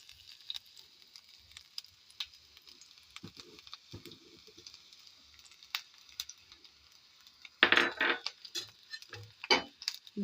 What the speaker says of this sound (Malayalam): വെളിച്ചെണ്ണ ചൂടായതിന് ശേഷം നമുക്ക് അരിഞ്ഞു വെച്ച ചെറിയുള്ളി ഇട്ട് കൊടുക്കാം